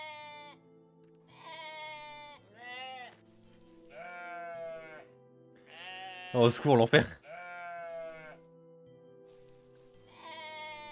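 Goats bleat in the video game OneShot, repeated wavering bleats spaced across the scene with one harsh, loud burst in the middle, while a person talks over them at moments.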